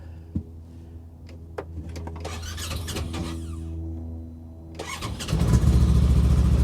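A $700 Datsun 280ZX engine cranks with a few clicks and turns over, then catches near the end and settles into a loud, steady idle, with no talk over it.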